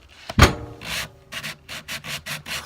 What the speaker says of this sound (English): turn the machine off, and move on to just hand sanding it